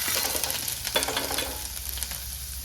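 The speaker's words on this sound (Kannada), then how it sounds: "ಆಯಿಲೆಲ್ಲ ಬಿಸಿ ಆದಮೇಲೆ ಕಟ್ ಮಾಡಿ ಇಟ್ಕೊಂಡಿದ್ದಂಥ ಬೆಳ್ಳುಳ್ಳಿನ ಹಾಕಿ ಫ್ರೈ ಮಾಡ್ಕೊಳ್ತೀನಿ" Chopped garlic fries in hot oil in a pan for pepper chicken, making a dense, steady hiss with a brief scrape of stirring, near and fairly loud with no voices.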